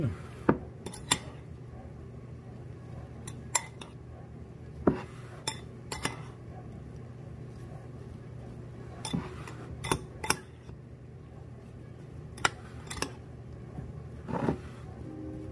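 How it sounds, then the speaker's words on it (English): Utensil clinks and taps against a dish while crepe batter with sugar is stirred, occurring as scattered sharp knocks over a steady low hum, with no talking. "I'll probably stir it up a little bit too, just to make sure that sugar gets all the way all over everything."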